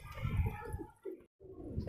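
Pigeons kept on a rooftop loft, with soft bird calls and low cooing murmurs running close by through a short stretch, broken by a brief quiet gap near the end.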